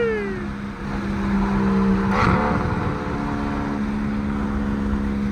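Straight-piped single-turbo BMW 335is exhaust drones steadily while driving, a loud, close engine tone that swells briefly, as if revving, then settles into a constant cruising hum.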